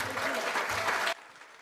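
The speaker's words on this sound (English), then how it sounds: "Another big round of applause." Conference audience applauding after a speech, a broad steady clapping wash that cuts off abruptly partway through, leaving quiet room tone.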